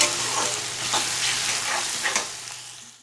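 Four large chopped onions fry for Kolkata-style mutton biryani, giving a steady close sizzle broken by several scraping stirs of a spoon in the pan, with no talk.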